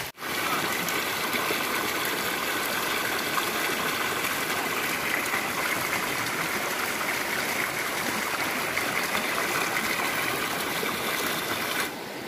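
River water rushes and splashes steadily at a swimming spot, a dense, continuous broadband flow that stays loud and even throughout before easing slightly at the very end.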